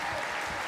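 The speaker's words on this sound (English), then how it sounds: "Please, a round of applause for you all." An audience at a live singing competition grand finale in London claps, a brief, dense burst of applause at steady volume.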